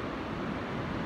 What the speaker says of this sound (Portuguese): E eu vi o som do mar, né?